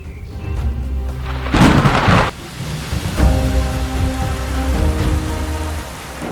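Heavy rain pours steadily on the Serengeti, loud and close, with a rumble of thunder rolling through about a third of the way in before the downpour carries on alone.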